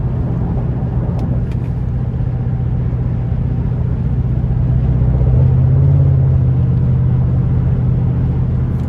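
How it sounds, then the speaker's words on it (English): A 2012 Chevrolet Camaro convertible 2SS with a naturally aspirated 6.2-litre V8 rumbles along at a steady cruise, a deep low engine drone heard from inside the car that swells slightly about two-thirds of the way through, with no talk. "just a great feel from this naturally aspirated V8"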